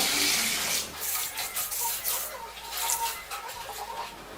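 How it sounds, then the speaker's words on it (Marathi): Rice and fenugreek seeds rinsed by hand in a bowl of water, a continuous close splashing and swishing with small rhythmic surges, with no one talking. "आता हे सगळं स्वच्छ धुवून घ्यायचं आहे आपल्याला एकदा"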